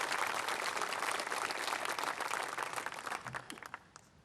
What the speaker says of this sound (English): Let's give them a round of applause for what's going on today.